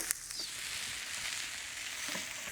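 Garlic and tomatoes frying in a pan on a grill, giving a steady close hiss of sizzling oil with faint crackles and a soft clink near the start.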